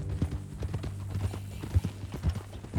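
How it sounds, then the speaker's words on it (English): Horse hooves clip-clop steadily at a walking pace in Red Dead Redemption 2, close and fairly loud, with a faint low hum under the rhythmic thuds. "That a new horse?"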